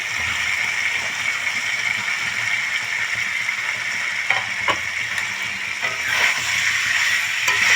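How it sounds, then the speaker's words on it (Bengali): Boiled potatoes are stir-fried with spices for a paneer curry, making a steady close sizzle broken by a few scraping stirs, with no one speaking. "আলুটা আমি খুব ভালো করে মশলার সঙ্গে কষিয়ে নেব"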